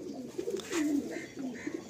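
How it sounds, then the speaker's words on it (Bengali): A male pigeon coos softly, a few low rolling calls close by, quiet and alone. "এই নর পায়রা"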